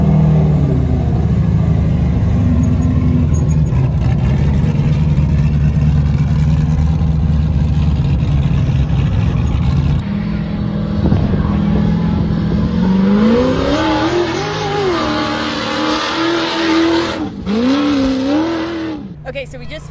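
An Ultra4 off-road race vehicle drives a practice pre-run lap with a loud, steady engine drone that later rises and falls in revs, heard from inside the vehicle and then shifting tone.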